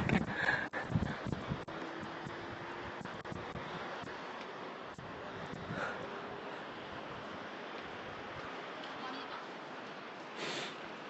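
Steady wind blowing outdoors on a sunny day in Yeouido, Seoul, a broad rushing noise buffeting the microphone throughout, with occasional louder gusts.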